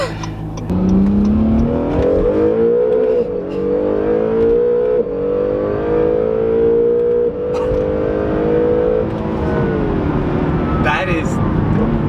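An Acura NSX hybrid supercar accelerating hard from inside the cabin, a rising engine and motor tone climbing smoothly through a long pull, loud and close, with people talking over it.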